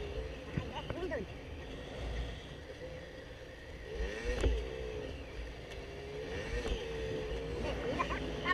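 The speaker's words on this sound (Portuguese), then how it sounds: "A moto tá em terceira direto, velho." Motorcycle held in third gear during a ride in Brazil after a fall, with an engine drone that repeatedly rises and falls in pitch under wind noise and occasional bumps, while riders talk over it.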